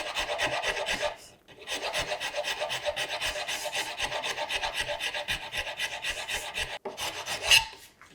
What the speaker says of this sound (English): Hit that with a rasp.